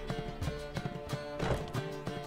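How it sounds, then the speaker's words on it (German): Horse hooves clip-clop in a quick, uneven rhythm in The Witcher 3, close and moderately loud, with a few soft snorts or shuffles mixed in. "Ist ein Pferd im Laden?"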